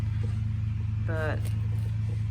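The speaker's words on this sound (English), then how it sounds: "I apologize for the noise in the background, but somebody's over there on a tractor." Low, steady tractor engine drone rumbles constantly in the background, with a brief higher tonal whine partway through.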